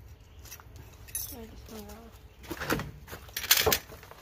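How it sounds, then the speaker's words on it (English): Metal tool clinks and scrapes while a part is unbolted from a Predator generator, with brief ratchety clicks and rattles up close and a voice talking between them. "I'm gonna unbolt this piece"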